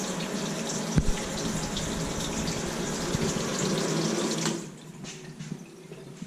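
Water runs steadily from a tap into a kitchen sink with a hydrophobic coating, a close, full rushing stream with a couple of small knocks, then easing to a thinner trickle near the end.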